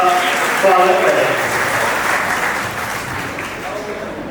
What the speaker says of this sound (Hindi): एक बार मैं आप सबसे रिक्वेस्ट करूंगा कि जोरदार तालियों से आज हमारे अतिथियों का स्वागत करें।